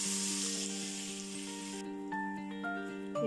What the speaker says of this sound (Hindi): साबुत ज़ीरा 1 चम्मच, जीरे को भून लें, 3 से 4 सेकंड के लिए भून लें जीरे को।